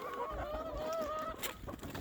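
Backyard fowl call in a few drawn-out, honking tones, fairly close and loud over outdoor background noise.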